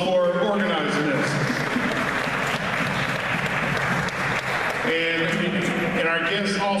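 Audience at a Dayton NAACP monthly community meeting claps in a dense, sustained burst of applause lasting several seconds, loud and close, with voices mixed in underneath.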